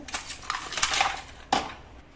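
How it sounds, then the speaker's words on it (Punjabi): Ice cubes drop into a glass of cold sharbat, giving a few sharp clinks and rattles, one cluster of knocks followed by a separate clear clink a moment later, close and alone. "ਹੁਣ ਆਪਾਂ ਇਹਦੇ ਚ ਪਾਵਾਂਗੇ ਬਰਫ਼"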